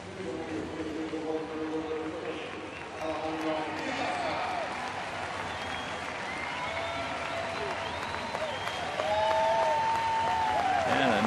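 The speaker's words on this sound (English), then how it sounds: "nice round of applause, deservedly so, for our captain, Paul Konerko" Baseball crowd applauding the team captain Paul Konerko at a Royals vs White Sox game, a broad steady wash of clapping and cheering that swells toward the end while an announcer talks over it.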